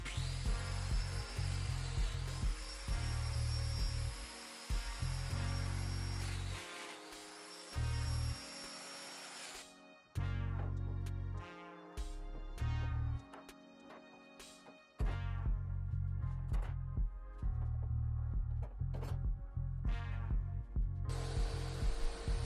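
A domino joiner cuts mortises into walnut desktop boards, its motor whining loudly in repeated bursts that start and stop with short pauses between plunges.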